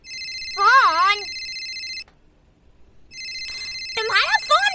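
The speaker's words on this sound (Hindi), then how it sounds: "तुम्हारा फोन बज रहा है।" A telephone rings in two bursts of electronic trilling tones, with a short gap between them, loud and close, and a warbling ringtone pattern repeats over the top.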